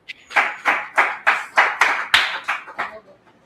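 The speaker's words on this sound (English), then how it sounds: "Please let's clap for her." A class claps for a student with about ten distinct, fairly loud hand claps in a loose, even rhythm that trails off at the end, with no talk over them.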